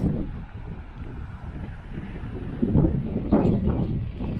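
Strong wind buffets the microphone on a South Australian coast, a constant low roar, swelling in heavier gusts toward the end.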